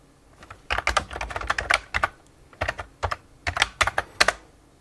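Fingers typing on a computer keyboard into a serial terminal connected to a Brother WP-1, close, crisp clattering keystrokes in quick irregular bursts separated by short pauses.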